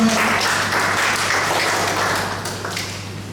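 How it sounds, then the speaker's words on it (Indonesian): A church congregation applauds together, a thick, continuous patter of many hands in a large room over a low steady hum, easing slightly toward the end. "Tepuk tangan dulu buat Tuhan Yesus"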